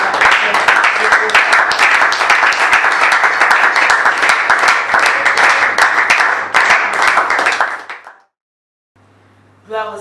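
Loud, dense audience applause at a church gathering, sustained for about eight seconds before cutting off abruptly, with a brief burst of sound returning at the end.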